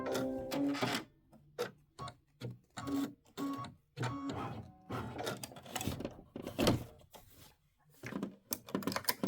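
A sewing machine stitches a tack-down line over fringe on a quilted decorative hot pad, running in close, loud bursts of rapid mechanical clatter broken by short pauses.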